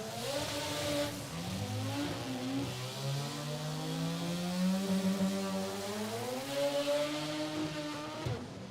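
Mazda RX2 rotary drag car pulling hard down the strip at a rotary drag meet, its loud, buzzing engine note climbing steadily in pitch, dipping briefly mid-run, then rising again without a break.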